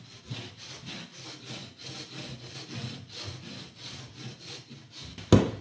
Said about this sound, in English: This is just a scraper that you can get.